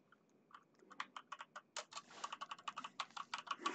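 Quick, irregular clicks of typing on a SteelSeries Apex M750 mechanical keyboard, starting sparse and building into a dense, close run of keystrokes.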